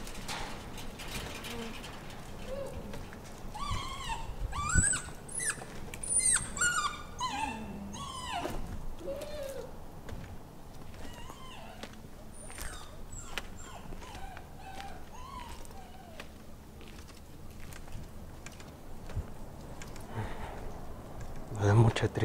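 Several dogs whimpering and whining with high, wavering cries and a few short yelps, close by in an abandoned orphanage. A voice speaks at times over them.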